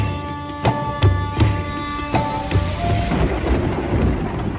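Heavy rain pours steadily while thunder cracks and rumbles several times in quick succession, loud and close, with the downpour hissing continuously beneath.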